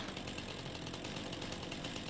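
A chainsaw runs continuously at steady, fairly quiet revving while it cuts through a log in the farming video game Farming Simulator 25. No one speaks over the even buzzing drone.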